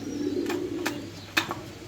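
Stone-eyed pigeons coo in a steady low rumble close by, broken by a few sharp brief clicks and taps, with no talking.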